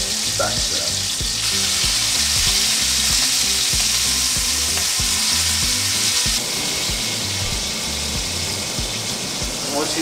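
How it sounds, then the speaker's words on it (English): Venison backstrap sears in a hot pan with a loud, steady broadband sizzle that runs unbroken throughout, with low clattering and handling noises underneath. "Nice little sear right there on the bottom side of it."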